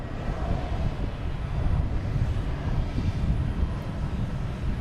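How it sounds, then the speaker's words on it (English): An Aer Lingus airliner departing Boston Logan Airport gives a steady, broad jet engine roar that holds at an even loudness throughout, with no talk over it. "We got another Aer Lingus coming out here."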